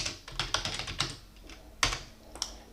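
Typing on a computer keyboard at a desk: a run of quick, light key clicks in uneven bursts, close and fairly quiet, with no voices.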